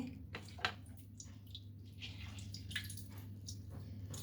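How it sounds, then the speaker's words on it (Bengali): Grated cabbage squeezed by hand to press out its water, with faint wet squishes and soft trickling drips over a steady low background hum. "জলটা আমি একদম নিংড়ে দিচ্ছি।"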